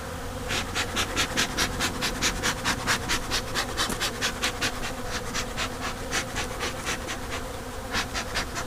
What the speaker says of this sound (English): There's a bunch of bees down in there too.